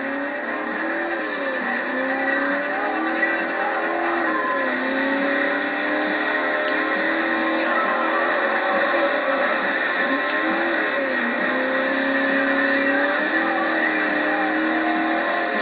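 Cars racing in the Forza Horizon video game: a steady, continuous engine roar with rising and falling revs and occasional tire-skid sweeps, loud and unbroken throughout with no talk.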